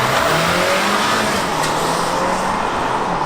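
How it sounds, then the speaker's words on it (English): A 2019 Acura RDX with a 10-speed automatic downshifts and accelerates to pass, its engine rising steadily under loud road and wind noise from inside the cabin, with no talk. "this 10-speed will downshift from 10th to 6th, skipping 4 gears to 4th when you want to pass somebody like that"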